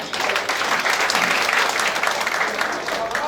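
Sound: audience applause

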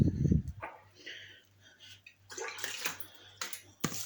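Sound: pouring drinking water into jar for bean pickles

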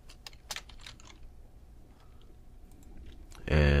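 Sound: typing on a computer keyboard

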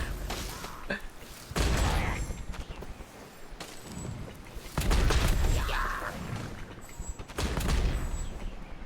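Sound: bombs exploding in the video game Genshin Impact

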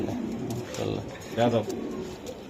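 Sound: pigeons cooing

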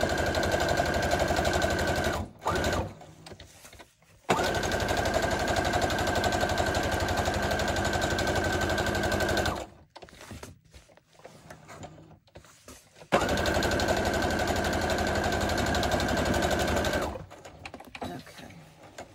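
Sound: sewing machine stitching a junk journal cover

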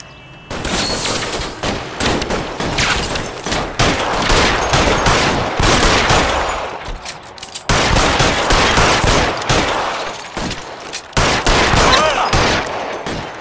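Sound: gunfire in a shootout, from the video game L.A. Noire

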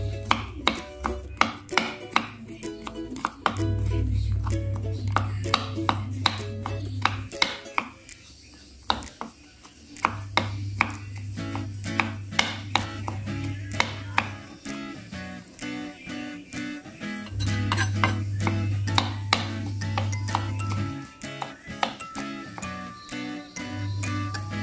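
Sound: chopping garlic finely with a knife

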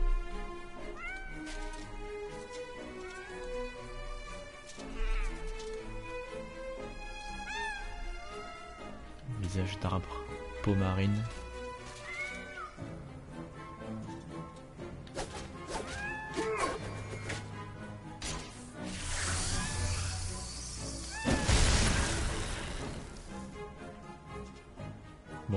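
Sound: cats meowing in MediEvil video game

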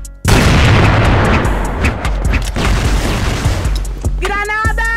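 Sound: grenade explosion in a video game

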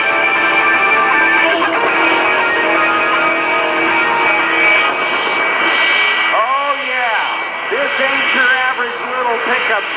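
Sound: National Guard jet-engine powered truck

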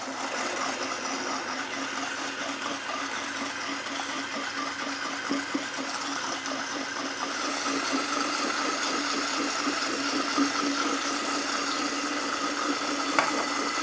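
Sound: blender running while olive oil is drizzled into citrus vinaigrette

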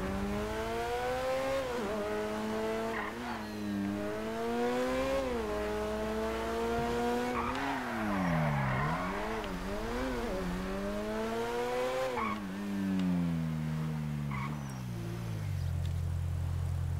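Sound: car accelerating in the video game GTA 5

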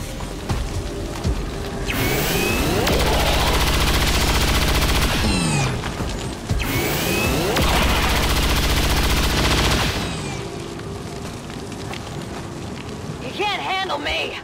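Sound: Grenadier firing chain shot at stun lancer, XCOM 2 video game

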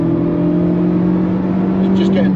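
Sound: Mazda MX-5 ND RF engine revving in third gear

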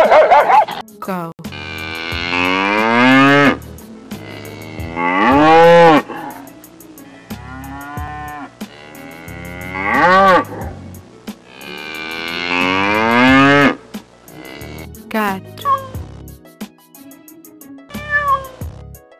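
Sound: cow mooing

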